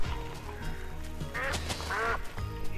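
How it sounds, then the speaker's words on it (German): A duck in Minecraft quacking twice in quick succession, nasal and close, over a steady low background hum. "So, Ente."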